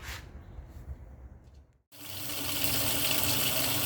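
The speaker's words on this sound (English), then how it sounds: "I'm going to get 2 gallons of warm water." Tap water runs into a bucket, filling it with about two gallons of warm water for window cleaning. A steady hiss cuts off briefly, then returns as a louder, fuller gushing stream close by.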